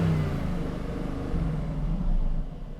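An Aston Martin sports car engine revs close up with a deep, throaty bark, its roar holding steady and swelling in short surges across the few seconds, with no talking.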